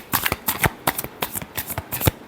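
Tarot cards being shuffled by hand, a quick run of about a dozen crisp riffling slaps in an uneven rhythm, close and clear, with no talking.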